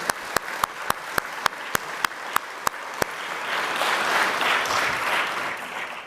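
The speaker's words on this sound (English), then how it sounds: "It's possible to applaud." Roughly ten sharp, evenly spaced claps ring out first, then the audience at the UNESCO ICT in Education Prize award ceremony breaks into fuller applause that swells and holds steady, moderately loud.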